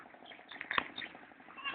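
A goat bleats once, fairly close, with a few softer bleats and calls around it over a quiet outdoor background in Pangasinan, Philippines.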